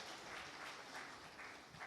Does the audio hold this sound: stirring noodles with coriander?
no